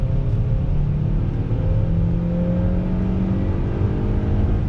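A 2020 Hyundai Tucson Ultimate with a naturally aspirated engine accelerates in a steady, loud, close drone from inside the cabin, the engine note rising slowly with no breaks.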